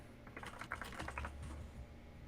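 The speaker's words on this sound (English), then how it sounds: "sometimes my keyboard sticks because I'm trying to type fast" Fast typing on a computer keyboard, a quick flurry of soft key clicks, quiet and close, fading after about a second and a half.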